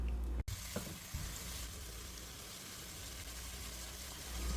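Squid is dropped into a hot pan of scallion oil and sizzles: a short clatter, then a continuous crackling fry, close and fairly quiet, with no voices.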